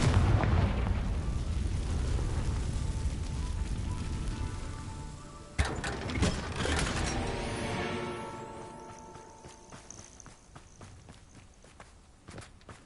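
Confringo fire spell exploding in Hogwarts Legacy, a loud rumbling roar that cuts off into a sharp blast, then crackling debris and fading echoes.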